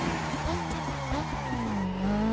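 A video game motorcycle engine in The Crew Motorfest roars steadily, its pitch climbing and dipping with a rising whine near the end, loud and close with no talking.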